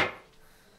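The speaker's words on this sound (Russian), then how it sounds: "Постучу молотком по плинтусу" One hammer tap on a baseboard inside a room, a short sharp knock that rings briefly and dies away into near silence.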